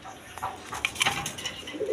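A pair of Indian Bombay pigeons coo softly close by, a few low murmuring calls with a faint rustle of wings.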